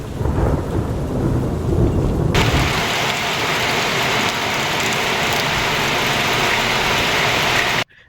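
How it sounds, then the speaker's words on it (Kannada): Torrential monsoon rain pounding down in Sirsi during a thunderstorm, a dense loud roar of downpour with deep rolling rumble, continuous and close, cutting off abruptly at the end. "ಧೋ ಮಳೆಗೆ ನಲುಗಿ ಹೋಯಿತು ಶಿರಸಿ"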